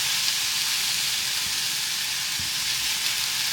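A vegetarian, gluten-free potato and egg bake mixture cooks down in a pan, giving a steady, loud, close sizzle and frying hiss with a few faint stirring scrapes, and no voices.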